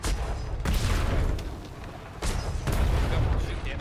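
Ship cannons firing in the video game ATLAS, a few heavy booming blasts in quick succession over a continuous rumble, loud and close.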